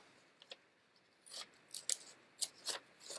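Scissors snip through paper to cut out a bean-shaped jellyfish body for a craft, giving several short, crisp cuts spaced about half a second apart after a couple of faint ticks, close and fairly quiet.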